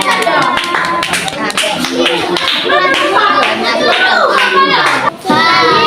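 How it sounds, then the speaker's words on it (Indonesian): Children in a fourth-grade elementary classroom clap their hands loudly in quick uneven bursts, with kids' voices talking and calling out over the clapping. "Tepuk tangan semua."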